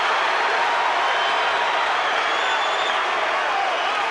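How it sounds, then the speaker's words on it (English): A boxing arena crowd on its feet at the end of a title fight, a dense, loud, continuous roar of cheering and applause filling the space without letup. "The crowd on their feet."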